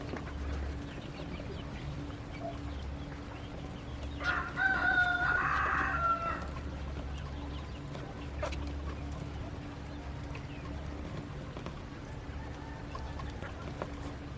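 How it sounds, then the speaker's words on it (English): A rooster crows once at moderate distance over a steady outdoor background hum, with faint bird and yard sounds around it. "Do you hear all the roosters crying? All around this neighborhood?"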